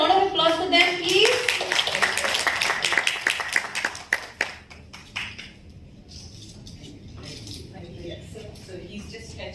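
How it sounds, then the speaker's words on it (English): Audience applause at a business and leadership convention, a burst of rapid, moderately loud clapping that thins out and fades over a few seconds, following a voice and trailing into quiet room noise. "Can we have a round of applause for them"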